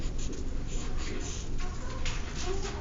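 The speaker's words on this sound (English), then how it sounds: "And notice sketching is really quick." Quick sketching on paper, a pencil scratching steadily and close in continuous short strokes against a low background hum, with no talking.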